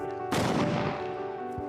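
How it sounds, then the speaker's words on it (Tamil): A Sivakasi firecracker cylinder bursts with one sharp, loud blast as its colour smoke runs out, the bang decaying into a brief crackling tail over a steady hum. "லாஸ்ட்டு இந்த ஸ்மோக் முடிஞ்ச உடனே பிளாஸ்ட் ஆகி கலர் பேப்பராக வெடிச்சிடும்."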